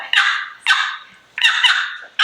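A pot call and striker produce sharp turkey clucks, four loud, clipped, raspy notes spaced unevenly and heard up close with no talking.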